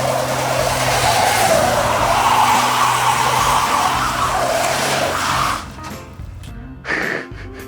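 A Jaguar luxury car does a burnout, its tires squealing in a loud, continuous roar for several seconds before the noise cuts back and surges briefly once more.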